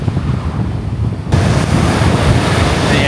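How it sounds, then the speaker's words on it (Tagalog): Loud, rushing surf of big ocean waves on a beach at Dunsborough, Western Australia, roars continuously, mixed with heavy wind buffeting the microphone. "At dito sa part ng beach na ito, lalaki ng alon,"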